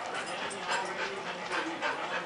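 Several dogs whimper and whine continuously up close, with a few faint yips mixed in, while a person talks softly nearby.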